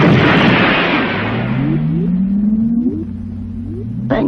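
A magical lightning whip in an old Indonesian mystery film strikes with a loud blast that fades into a deep, sustained rumble, with rising whooshing tones and a sharp crack at the end.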